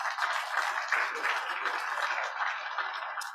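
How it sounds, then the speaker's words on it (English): Applause from a Rotary meeting audience, a steady wash of many hands clapping at a moderate distance, sustained throughout without pause. "I'd like to really welcome her back with a warm round of applause"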